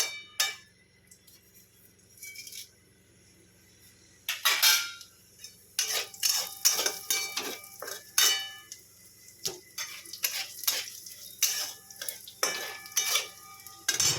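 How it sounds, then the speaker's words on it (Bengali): Cumin, garam masala and a dried red chilli crackle and sizzle as they fry in hot oil, with intermittent bursts of spattering and the scrape and clink of a stirring spoon against the pan. "তারপর এই যে তেলের মধ্যে ফোড়ন দেবো, জিরে আর গরম মশলা আর একটা শুকনো লঙ্কা ফোড়ন দেবো।"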